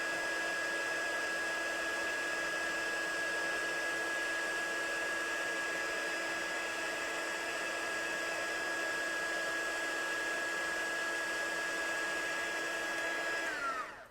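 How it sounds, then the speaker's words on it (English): A heat tool blows steadily to melt embossing powder for heat embossing on a card, a loud constant whir that holds unbroken for over ten seconds before winding down at the end. "our heat embossing is complete"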